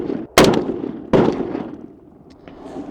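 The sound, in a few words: SIG MCX pistol firing 180 grain Federal rounds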